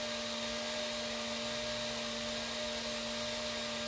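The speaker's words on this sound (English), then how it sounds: "Now my press here is aero hydraulic, so it gives me a lot of pressing force." An air-over-hydraulic shop press runs steadily with a continuous pneumatic hiss and whir, loud and close, while pressing out an axle bearing.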